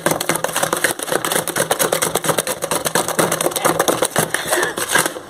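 Electric hand mixer whirring as it beats cake batter in a rural home kitchen, a steady buzzing motor with rhythmic rattling pulses as the beaters knock the bowl, close and loud throughout.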